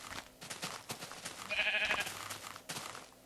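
A sheep bleats in Minecraft, one short wavering bleat standing out briefly over quiet game ambience.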